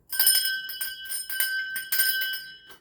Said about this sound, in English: I'm going to be cleansing the space a little bit more with this bell.